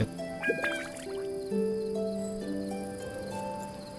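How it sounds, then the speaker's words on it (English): A lyre gadget in Genshin Impact plays a short melody of sustained plucked-string tones over the game's background audio, with a quick rising run at the start followed by held notes. "this lyre, sings over the music of the background in your game for 5 seconds whenever you press it"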